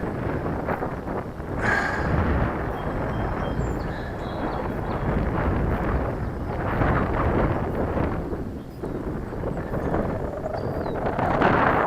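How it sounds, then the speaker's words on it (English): Strong, steady wind buffets the microphone outdoors in a continuous broadband roar that swells and eases in gusts, with no voices over it. "I want the wind to die down, but it's not doing. It's getting more. It's getting brisker, the wind."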